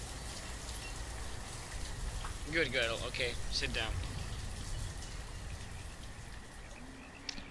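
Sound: rain falling in video game Banished

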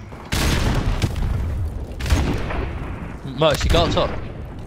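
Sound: grenade explosion in a video game (Modern Warfare Remastered)

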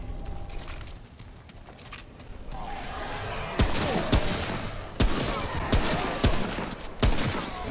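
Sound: hunting rifle gunfire in video game Remnant

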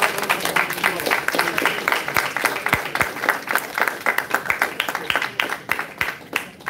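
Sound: audience applause

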